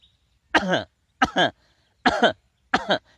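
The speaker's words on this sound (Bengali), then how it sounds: "আপনি একটু কাশি দেন" Four forceful coughs spaced evenly about a second apart, each a short harsh burst from one person doing a breathing exercise, close and clear with silence between.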